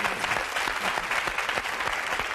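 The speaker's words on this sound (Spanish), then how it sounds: "te aplaudimos y te escuchamos." Studio audience at a televised Spanish interview applauding, a steady dense wash of hand claps that carries on evenly throughout, with no voices over it.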